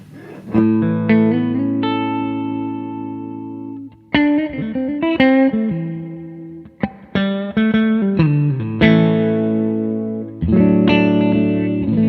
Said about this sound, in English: clean with a little bit of reverb